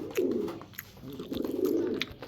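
Pigeons coo close by in two soft, throaty rolling calls, with faint background noise between them.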